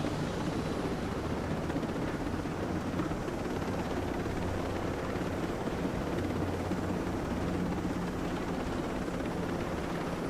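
Continuous dense rotor roar of a video game helicopter, loud and unchanging throughout, with no other sounds on top.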